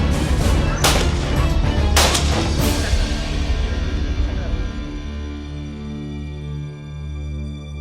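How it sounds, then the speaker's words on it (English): Hunters fire at wild boars in a cold forest, with three or four sharp, loud gunshots in the first few seconds, followed by a steady tonal hum as the reports fade. "And the hunter's gunshots were the end point for this intense chase."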